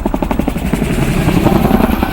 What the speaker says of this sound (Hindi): संगवारी हो मेरे हेलीकॉप्टर की आवाज़ आती लगा